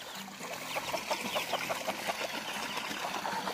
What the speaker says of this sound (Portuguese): Aí a galinha do pintinho.